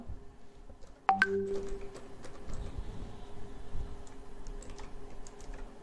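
Brief keystrokes on a computer keyboard during a programming lesson, a sharp click followed by a short run of light, close taps over quiet room noise, with no talking.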